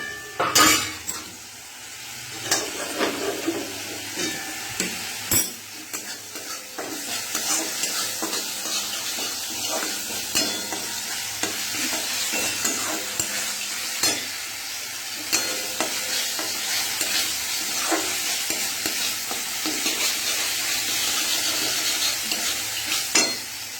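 Leafy greens frying in plenty of oil in a kadai wok, with steady sizzling and repeated stirring scrapes and clinks of a utensil throughout, close and fairly loud.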